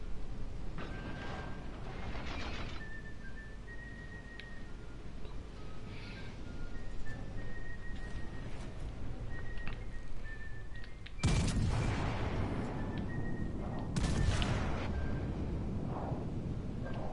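Front gun turrets on a battleship fire in a Hood versus Bismarck naval video game battle, heavy booming salvos bursting over a low rumbling background, with a couple of loud blasts close together near the end.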